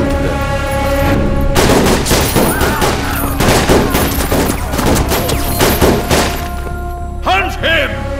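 Heavy gunfire in a dubbed South Indian action film, a dense sustained volley of many overlapping loud shots and thuds over a constant rumbling score, continuing for several seconds before a few last cracks.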